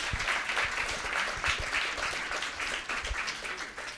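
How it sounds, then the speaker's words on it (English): Audience at a food security symposium wrap-up gives a steady round of applause, dense clapping filling the room for about four seconds without talk. "let's give these groups one more round of applause"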